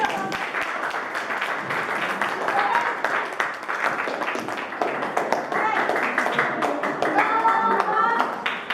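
A class of students claps for a presenting group, a lively stretch of many hands with uneven, choppy bursts, overlaid with talking and voices from the room.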